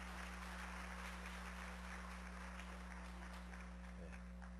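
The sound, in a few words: church congregation applause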